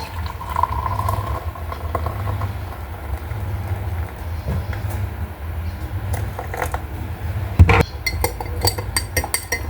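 Hot water pours into a cup of Lipton tea with a continuous low, bubbling rush, followed by a short clink of glass near the end.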